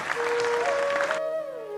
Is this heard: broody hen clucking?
no